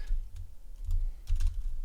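Quick bursts of typing on a computer keyboard, close and clear, with short runs of keystrokes separated by brief pauses.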